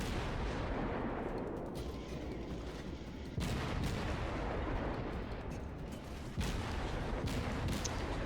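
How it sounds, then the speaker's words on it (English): Naval guns fire in World of Warships, booming salvos at about three-second intervals over a continuous dense roar of battle. "I'm detected, I might as well open fire."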